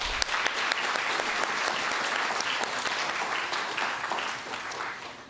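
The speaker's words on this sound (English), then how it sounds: "So give yourselves another round of applause for that." Students and guests at a poster competition awards ceremony give a dense, steady round of applause that holds strong, then eases slightly toward the end.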